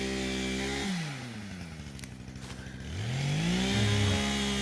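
A chainsaw runs on a farm with cows and goats, its engine revving high, dropping to a low idle, then winding back up, loud and close with no talk over it.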